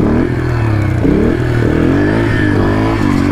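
A Yamaha TTR 125 dirt bike's small engine revs hard and loud up close during a wheelie, a continuous buzzing drone with rising and falling pitch.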